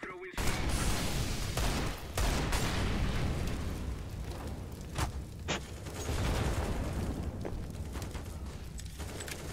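Gunfire in Counter-Strike on the Inferno map, a series of loud bursts and sharp shots over a continuous rumble of game sound, with players' voices at times.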